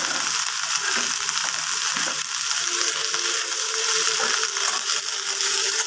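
Okra tossed into a pan of softened onions and green chillies fries with a steady, dense sizzle and crackle, close and continuous with faint stirring scrapes throughout.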